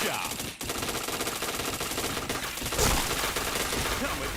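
Rapid automatic gunfire from a video game shooter rattles continuously and loudly, bursts packed close together with a brief gap early on.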